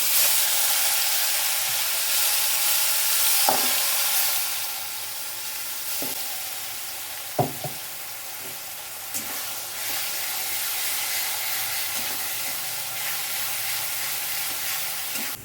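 An onion and tomato paste for dhaba-style egg curry frying in a pan, giving a steady close sizzle and hiss with a few clinks of stirring.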